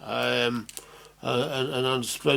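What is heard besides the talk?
No everyday noise stands out behind the speech.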